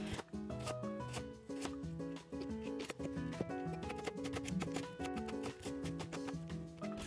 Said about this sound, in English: Slice them thin and cut into matchsticks.